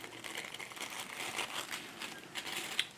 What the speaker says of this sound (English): just cut this out this way